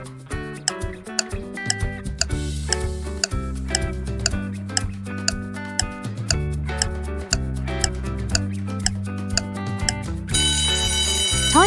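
Quiz countdown timer ticking steadily in a regular rhythm, layered over busy upbeat background music, with a brighter chime-like change near the end.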